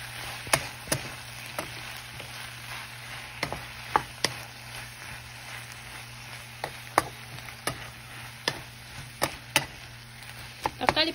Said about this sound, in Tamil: அடுத்து தக்காளி சேர்த்தாச்சு இதை நல்லா வதக்கி விட்டுருவோம்